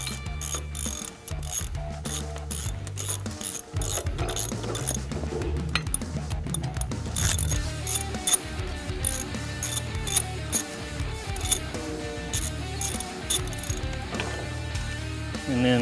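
A Chief Structural vise for vehicle frame work being tightened with a ratchet, a rapid run of close metallic pawl clicks in repeated bursts with short pauses and clinks between strokes.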